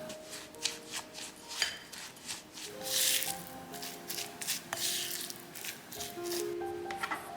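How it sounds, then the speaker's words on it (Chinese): Butter being mixed into biscuit crumbs for a no-bake mango cheese mousse cake base, soft scraping and squishing strokes close up, irregular and quiet, with light tones of background music. "混合黄油和饼干碎"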